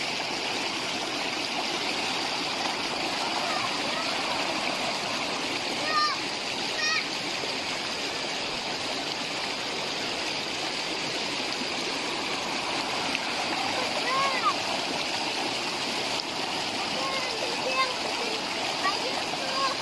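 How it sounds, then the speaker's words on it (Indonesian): A river in the interior of Sabah, Malaysia, flowing and splashing steadily over rocks, with children bathing nearby and voices talking over the continuous rushing water throughout. "sekarang saya ada di sungai."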